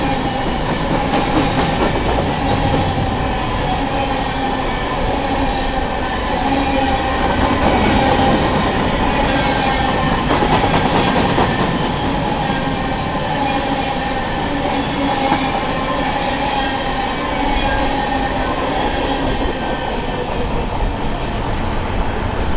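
A BNSF freight train, a grain train, rolls steadily past on the Kootenai River subdivision through pine forest, its loud continuous rumble and clatter of wheels holding throughout without pause.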